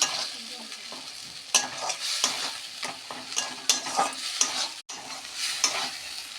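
Loitta fish with spices fried and stirred in a pan, with a continuous close sizzle and irregular bursts of spatula scraping and clatter, fairly loud and without any speech.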